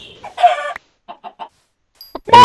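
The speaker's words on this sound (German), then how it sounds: "Boah, alles voll Hühner." Chickens in the video game Minecraft give several short, close clucks in quick bursts separated by silence, with a brief sharp sound effect near the end.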